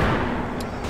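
Grenade blast and gunfire in the shooter game CrossFire, a loud, dense burst of game explosion noise filling the whole moment with a couple of sharp crackles near the end.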